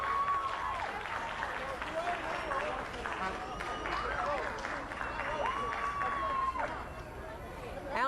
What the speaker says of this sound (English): Let's give him a second to cheer.